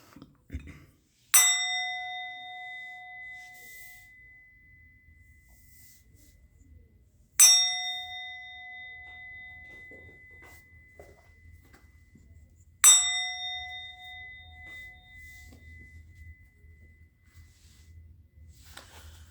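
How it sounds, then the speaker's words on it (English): Three clear strikes of a bell ring out several seconds apart. Each gives a bright metallic clang with a long shimmering decay, heard alone and close in a quiet room. "I'm going to ring the bell."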